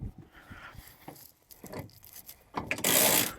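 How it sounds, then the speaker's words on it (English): An integral truck bed strap is cinched down by hand, giving a series of quiet irregular clicking ratchet strokes, close up, ending in a louder hiss-like rasp as the strap pulls tight. "I'm actually just going to press the button to pull it in some, and then we'll ratchet the rest of the way."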